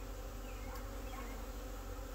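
A honey bee swarm hangs high up and gives off a dense, steady buzz that stays loud and close without a break.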